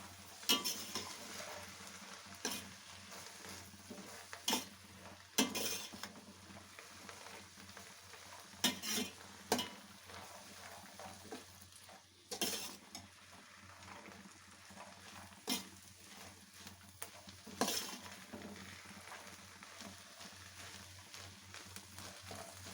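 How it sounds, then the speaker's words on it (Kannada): Drumstick leaves palya fries quietly in a pan, a low steady sizzle broken by repeated scraping stirs of a spatula at irregular intervals. "ಒಂದು 2 ನಿಮಿಷ ಹೀಗೆ ಫ್ರೈ ಆಗಲಿ"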